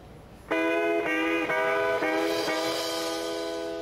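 An imitation of a train, probably on an instrument rather than a voice: a bright, sustained chord repeats in steady chugging pulses about twice a second, loud and close, with nothing else heard.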